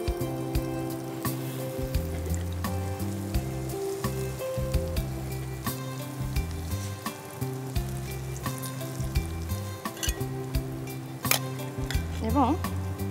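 An egg pancake sizzles steadily in a pan on the stove. Close clinks and scrapes of a utensil against the pan sound over the frying, and voices can be heard in the background.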